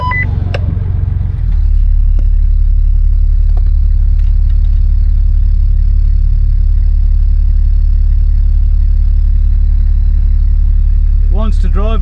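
A Land Rover climbs a steep hillside during a winch recovery, its engine a loud, constant low drone that builds after a brief clatter at the start, with voices speaking over it.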